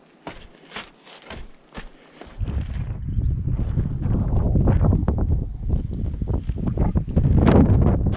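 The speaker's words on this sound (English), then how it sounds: "Little windy on the bridge." Wind buffets a microphone on a suspension bridge over the water in the Grand Canyon. A few light footstep-like knocks come first, then a loud, steady roar of gusting wind that keeps rising to the end.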